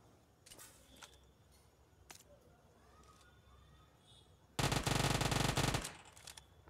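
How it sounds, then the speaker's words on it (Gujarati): Burst of automatic gunfire in the battle royale game BGMI (Battlegrounds Mobile India), starting after a few faint distant shots and lasting about a second, loud and close, then fading. "ફરતી બાજુ થી આમ થી ગોળી કોક ફોડે હજી તો"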